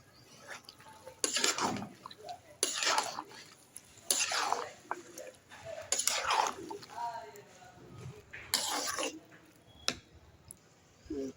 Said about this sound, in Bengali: রান্না চলছে, কষানো হচ্ছে মাংস।